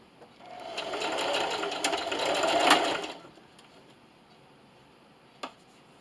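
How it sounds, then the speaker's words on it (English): A sewing machine backstitches with a straight stitch at 2.5 length, giving a quiet burst of about three seconds. One small click follows later in near silence. "I'm going to backstitch in the beginning here."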